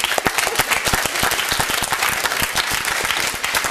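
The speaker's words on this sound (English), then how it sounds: "That was for you, that round of applause" A live TV studio audience at a Sunday debate in Uxbridge applauds, a loud and close burst of many hands clapping in quick, uneven patter that holds throughout with no speech over it.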